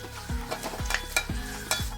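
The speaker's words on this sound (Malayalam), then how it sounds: "ചൂടായിട്ടുണ്ട്, നമുക്കിതിൽ കടുക് ഇട്ട് കൊടുക്കാം." Steady sizzling of seeds in hot oil, with sharp crackles and pops and a few rhythmic scraping strokes of stirring, close and fairly loud.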